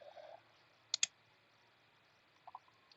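A computer mouse clicking: a quick double click, faint and close, followed later by another soft pair of clicks in a quiet room.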